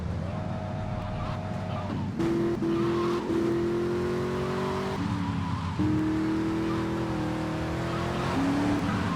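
A car is driven around in the GTA Vice City video game, its engine droning and shifting pitch through several gear changes, with tyre noise under a steady, loud game soundscape.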